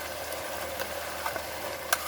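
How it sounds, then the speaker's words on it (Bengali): Onion, garlic and green chilli paste sizzles in a frying pan with mutton, a soft steady hiss with a few faint scrapes and clicks of stirring. "এখন পেঁয়াজ, রসুন, কাঁচা লঙ্কা বাটাটা দিয়ে দেবো।"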